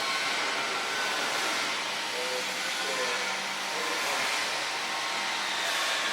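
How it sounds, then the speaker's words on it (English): Assist gas hissing from a laser tube cutting machine, a loud, continuous rushing blast with no pauses. "you need to first click the gas to see if the machine is connected well with the air supplier"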